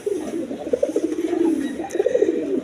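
A pair of pigeons at a bird market, one red and one cream-coloured, give low, throaty coos that roll in a steady run of soft pulses, close by and fairly loud, with a faint hum behind.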